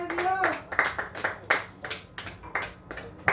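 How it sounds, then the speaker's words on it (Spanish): Members of a church congregation clap in praise, with sharp, distinct hand claps falling in a loose, roughly regular rhythm. A voice is briefly heard at the very start. "Tenemos que aplaudir la gloria de Dios, hermano."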